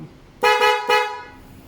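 Two quick honks from a pair of genuine Bosch electric horns on a Yamaha XMAX scooter, the second a short separate beep, loud and close, with a faint background hum.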